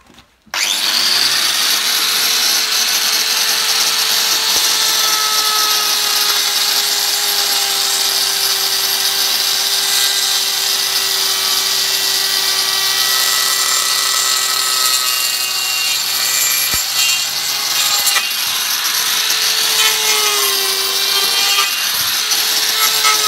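A GRAFF Speedcutter abrasive cutting disc grinds through nails driven into wood, holding a steady, loud, high-pitched whine with a slight pitch dip partway through and a brief click near the end.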